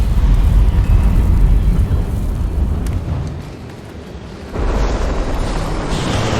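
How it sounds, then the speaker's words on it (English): A bloodstone explosion in Guild Wars Heart of Thorns: a loud, deep rumbling blast that fades into a lower, quieter drone before a second surge of roaring, crackling energy swells up near the end. "That bloodstone explosion seemed to trigger some sort of magical echo."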